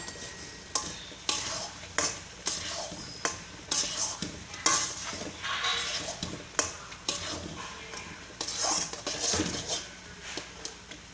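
A spoon stirs pineapple sheera, a semolina sweet, in a pan while lumps are broken up, giving repeated metallic scrapes and taps against the pan over a soft sizzle, close and rhythmic with no talk.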